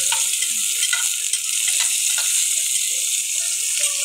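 Onion and garlic sizzle steadily while frying in a pan, a continuous close hiss with small crackles and no talking.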